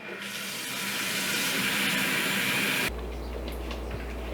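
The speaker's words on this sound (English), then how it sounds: "So now just hot water." Hot water runs hard from a tap into a sink, a loud steady rush that cuts off abruptly, leaving a low hum.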